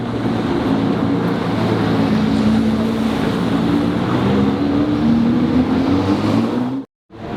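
A Ferrari in race mode accelerates hard, its loud, close engine tone climbing steadily for several seconds before cutting off abruptly, then returning briefly.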